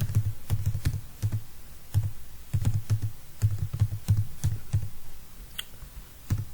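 Code being typed on a computer keyboard for a C-language program, a steady run of close, crisp key clicks with irregular rhythm and occasional pauses, heard alone without voices.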